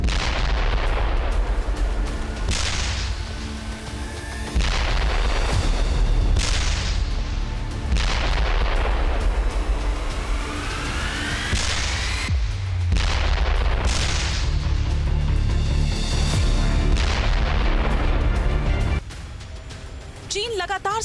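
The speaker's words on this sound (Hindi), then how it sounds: "चीन के तोपों की गर्जना" Repeated heavy booms of Chinese artillery cannon fire, loud and close, one after another with rumbling echoes, mixed with a voice speaking over them.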